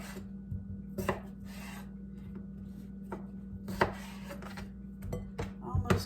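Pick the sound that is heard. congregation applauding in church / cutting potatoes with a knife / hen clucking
cutting potatoes with a knife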